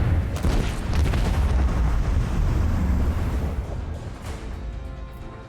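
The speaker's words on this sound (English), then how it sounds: "Macro cannons, volley!" Macro cannons fire a volley in the Rogue Trader space battle game, a heavy rumbling barrage of booms with crackling blasts that swells, holds and slowly fades, with no speech.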